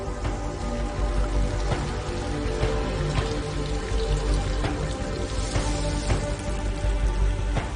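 Steady rain pours over a dying forest on a world poisoned by volcanic eruptions, a dense continuous hiss with scattered sharper drops and drips landing close by throughout.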